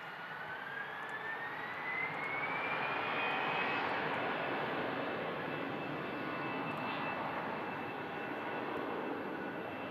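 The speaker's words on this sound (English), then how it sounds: "EasyJet. Also from Malaga. Just slowly beginning to spool up." EasyJet jet airliner at Manchester Airport with engines slowly spooling up, a distant broad roar with a rising whine that swells and then holds steady.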